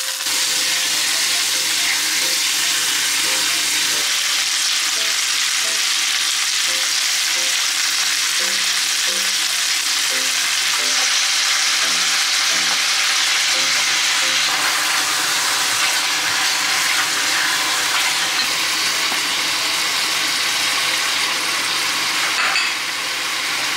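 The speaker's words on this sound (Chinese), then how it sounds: "加入土鸡腿块" Free-range chicken leg pieces frying in a cast iron pot, a loud, steady sizzle and hiss that stays constant throughout with some stirring, close up and with no voices.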